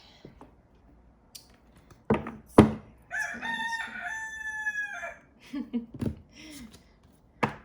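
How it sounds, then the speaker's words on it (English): A rooster crows once, loud and nearby, a drawn-out harmonic call lasting about two seconds, surrounded by scattered clicks and brief clucks. "We get it, Rooster. We get it."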